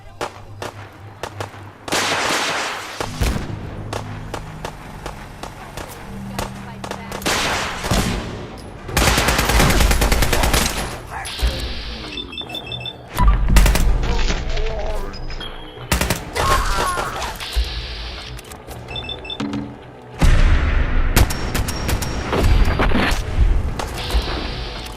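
Intense Fallout 4 battle at a farm, with dense bursts of gunfire and booming explosions from missile launchers, loud and near, coming in clustered volleys with brief lulls between them.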